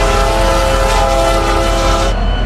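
A commuter locomotive horn in the Roblox game RO Scale Sandbox blares loud and sustained as a steady, multi-tone chord, cutting off abruptly near the end.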